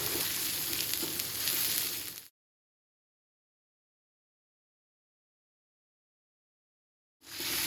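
Blended ginger and onion masala for korma fries in a pan with a soft, close sizzle and stirring for about two seconds, then drops into a long stretch of total silence before the sizzle returns briefly at the end.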